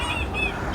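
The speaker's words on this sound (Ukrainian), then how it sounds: "Клас, дуже багато птахів." Many birds calling together at a yacht club, with overlapping honking, fowl-like cries over a steady outdoor background, moderately close.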